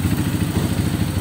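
A Honda CRF 150 motorcycle with a 212cc bore-up kit and 66mm steel bore runs up close, a loud throbbing engine with a fast, even pulsing rumble and mechanical clatter, no speech.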